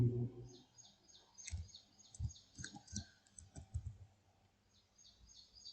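Short bursts of light clicking keystrokes on a computer keyboard, irregular taps clustered in groups with pauses, quiet and close, with faint chirping sounds in the background.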